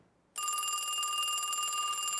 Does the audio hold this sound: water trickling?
no